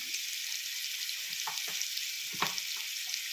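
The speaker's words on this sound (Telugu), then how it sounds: "ఉల్లిపాయలు అయితే ఫస్ట్ వేగాలి" Sliced onions with turmeric fry in a pan, giving a soft, continuous sizzle at low level, with a few brief stirring scrapes near the middle and again later, and no one talking.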